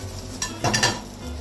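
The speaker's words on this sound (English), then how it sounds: "I'm cooking it from all the sides, the rolls" Rolls fry softly in a pan while a utensil scrapes and stirs, a few brief clinks standing out over the hiss.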